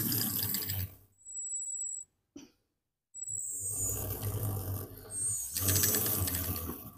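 A homemade 3D-printed BLDC motor with plastic-mounted bearings whirs with a rattly, vibrating buzz, cuts out, gives a brief blip, then self-starts and runs steadily up close.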